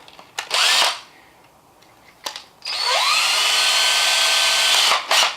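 A power drill whirs up briefly, stops, then spins up again and runs steadily for a few seconds, loud and close, while installing a plastic cut-in box.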